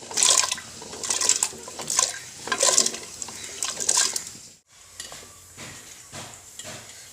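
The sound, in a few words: tapioca pieces added into boiling water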